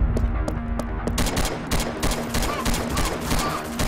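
An AK rifle fires in BrainBread 2, a deathmatch video game, with many rapid close shots that come in bursts and repeated cracks over a steady hum.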